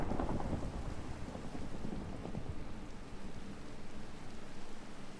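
Rain and rolling thunder of a Minecraft thunderstorm with lightning, a steady wash of rainfall with low rumbling swells near the start, continuous and moderately loud with no voices.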